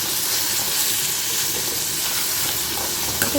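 Tomatoes sautéing in a pan for Kongu-style prawn thokku give a steady, close sizzle with a broad frying hiss throughout, and a faint clink near the end.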